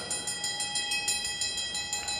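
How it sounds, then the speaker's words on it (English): A bell rings repeatedly at a track cycling race during the Masters Track World Championships, a fast steady series of bright metallic strikes ringing close and clear over a low arena hum. "And there's the bell."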